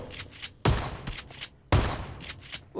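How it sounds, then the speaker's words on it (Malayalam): Shotgun blasts in a battle royale video game: two sharp, loud booming shots about a second apart, each with a decaying tail, between lighter clicks and faint game sounds. "ഷോട്ട് ഗൺ കൊണ്ട് ഒരാളെ എയിം ചെയ്തു"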